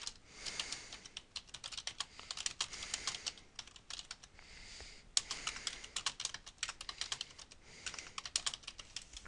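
Someone types steadily on a computer keyboard while building a web page in Adobe Dreamweaver CS4, with quick runs of close, crisp key clicks, short pauses, and no talking.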